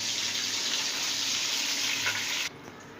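Mutton koftas fry in hot ghee with a dense, even sizzle close by, which cuts off abruptly near the end, leaving a quieter room; no one speaks.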